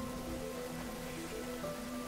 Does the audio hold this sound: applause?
no